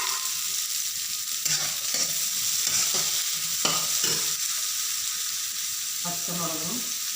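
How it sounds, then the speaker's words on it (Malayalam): Mustard seeds, garlic and onion frying in hot coconut oil in a pan for onion thoran. A steady close sizzle runs throughout, with a few stirring scrapes and brief talk in the background. "കടുക് ഇടട്ടെ. വെളുത്തുള്ളി സവാള ഇട്ടു."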